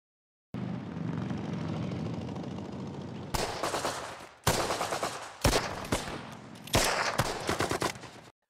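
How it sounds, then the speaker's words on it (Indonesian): Machine-gun fire rattles out in a film scene set in occupied Greece, first a sustained rapid burst over a rumbling engine, then several separate loud volleys spaced a second or so apart, with no talking. "Akhirnya, tembakan dilepaskan"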